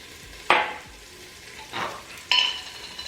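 Cumin and spice powders for a crab curry hit hot oil, producing three bursts of sizzling, each flaring up then fading, with a quiet hiss between them and no speech.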